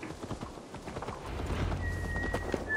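Hooves clop steadily on a hard surface in the video game Assassin's Creed Valhalla, a horse walking at a relaxed pace, fairly faint with a soft ambient hum behind.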